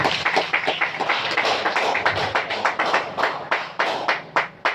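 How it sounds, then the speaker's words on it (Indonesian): A crowd at a village head campaign event claps together in a brisk burst of applause, close and fairly loud, the dense patter thinning out toward the end. "Tepuk tangan dulu Pak untuk kita bersama."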